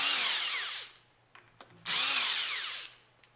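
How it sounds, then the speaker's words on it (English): An impact wrench with a 5mm hex bit loosening bolts on a pump's top cover, two close, loud whirring bursts of about a second each with short clicks between them. "Use the impact wrench with a 5mm hex attached to loosen the 4 bolts from the top cover."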